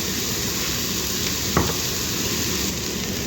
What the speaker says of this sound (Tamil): போட்டு நல்லா வதக்கி விடுவோம் மிக்ஸ் ஆகட்டும்